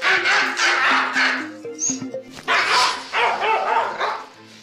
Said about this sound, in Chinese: 终于忍不住嚎出了声